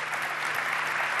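Audience applause for guests at an official presentation event, a steady dense wash of clapping from a large crowd, somewhat distant and even.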